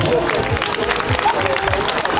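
Clapping from an audience at a regional Miss Italia Piemonte Valle d'Aosta pageant final in Novi, steady and fairly loud with a crowd murmur beneath.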